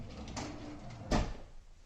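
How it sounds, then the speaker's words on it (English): A kitchen drawer pushed shut while a dishwasher is unloaded: one soft, muffled thump near the end, faint and close, against quiet room noise. "close the drawer"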